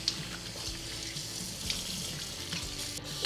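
Water runs steadily from a tap into a sink while hair clip-ins are rinsed, a continuous close hiss of flowing water throughout with no voices.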